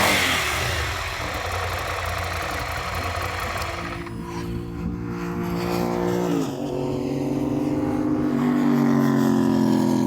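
A 2019 Ducati Scrambler Full Throttle motorcycle engine cranks over and fires, then settles into a loud, steady idle with a few small revs, recorded close.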